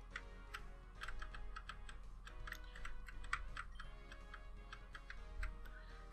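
Steady typing on a computer keyboard at a desk, with quick irregular key clicks running throughout, fairly close and clear, with no talking.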